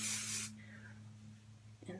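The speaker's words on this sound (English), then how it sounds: "I shake it up and then I just spray it on." Hairspray from a shaken can misted onto hair, a single loud close hiss lasting about half a second, then a low steady hum with faint rustling.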